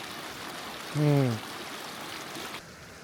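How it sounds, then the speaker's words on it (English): Continuous soft rushing of a river running nearby on a hiking trail near Cusco, Peru, steady and even, with a brief low tonal sound cutting in early on. "Can you hear the river running beside me?"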